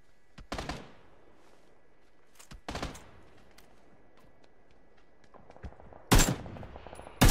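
Bursts of automatic M16 rifle fire in PUBG, a few sharp, loud volleys spaced apart with quiet gaps between, the last burst cut off at the end.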